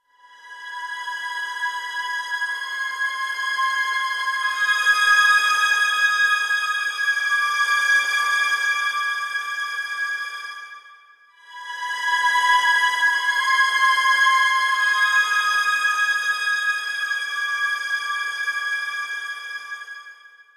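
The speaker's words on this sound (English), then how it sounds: "And on our second violin, VIB, we have a tremolo sustain." Sampled VSL second violins hold a sustained tremolo chord that swells in, fades briefly near the middle and returns, a bright shimmering string texture heard alone.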